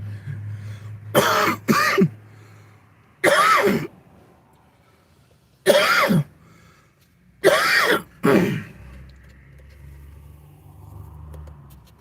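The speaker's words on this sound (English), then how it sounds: "I do apologize for all the coughing and hacking this review" A man coughs and hacks repeatedly during a food review, with five or six harsh, close bursts, some in quick doubled pairs, separated by quiet pauses and a low background hum.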